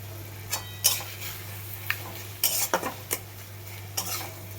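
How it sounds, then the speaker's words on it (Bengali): Prawns wrapped in taro leaves are stirred in a pan after mustard oil is added: a spatula scrapes and clinks against the metal in irregular strokes over a faint, low sizzle. No one speaks. "এবার একটু নাড়াচাড়া করে গ্যাসটা অফ করে দেবো"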